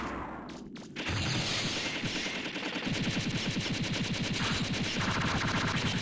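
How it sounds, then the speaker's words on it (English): Rapid sustained bursts from the Machine Buster weapon in the Mega Man Legends video game, a dense rattling stream of shots after a brief pause, loud and continuous with steady rhythmic pulses. "The rapid fire of the Machine Buster is incredibly useful"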